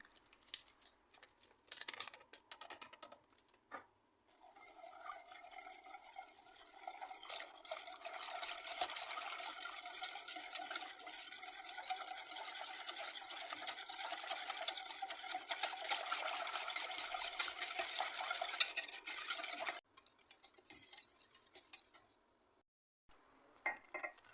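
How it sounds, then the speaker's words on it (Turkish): Milk, sugar, starch, flour and vanilla being stirred together in a pot, a steady scraping and swishing that runs continuously for most of the stretch after a few quieter clinks, with no talk. "İlk olarak tenceremize 1 litre süt, 1 su bardağı şeker, 2 yemek kaşığı nişasta, 3 yemek kaşığı un, bir paket vanilya ekleyelim ve karıştıralım."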